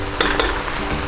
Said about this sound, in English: now that this is sizzling